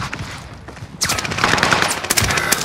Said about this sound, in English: I shot through the window